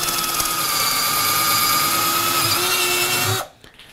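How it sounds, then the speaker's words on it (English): A Black + Decker SMARTECH 20V MAX 3/8-inch cordless drill whines steadily at full speed with a high motor hum, then cuts off abruptly near the end. "will allow you to do things like drill holes very easily"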